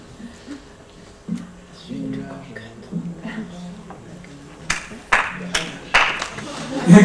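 Audience clapping at the end of a lecture, a few scattered claps that swell into brief louder applause near the end, mixed with murmured talk in the room.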